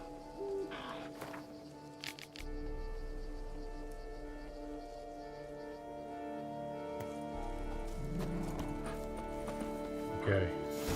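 Geralt rides his horse Roach in The Witcher 3: Wild Hunt, with steady clip-clopping hoofbeats carrying on throughout, set against soft rain and bird ambience and a low rumbling game soundtrack.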